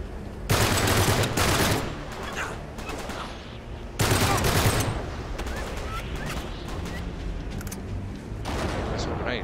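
Gunfire in the video game Uncharted 3: Drake's Deception, set in a sandstorm, with dense bursts of rapid automatic fire in two loud volleys around a sustained rattle of continuous shooting.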